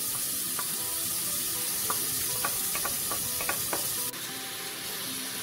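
Bell pepper and pimenta de cheiro sizzle in a hot pan with pink salt and garlic, a steady loud frying hiss with scattered pops and stirring scrapes, close up and without talk.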